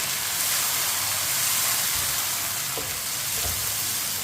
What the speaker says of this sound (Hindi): अब टमाटर को भी 2 मिनट के लिए पका लेते हैं।